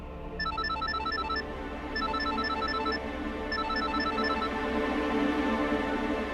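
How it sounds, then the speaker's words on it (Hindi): A telephone rings in repeated electronic trilling bursts, three rings with short pauses between them, over a steady low background hum while a call is placed. No one speaks. "एक काम करते हैं, मैं खुद ही उनसे पूछ लेता हूँ। लगाइए फोन, लगाइए।"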